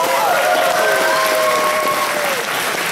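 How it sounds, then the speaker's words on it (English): A large crowd at the Animethon 2023 anime convention opening applauds loudly and continuously, with sharp whistles and scattered cheers rising above the dense clapping. "So give yourself a real big round of applause."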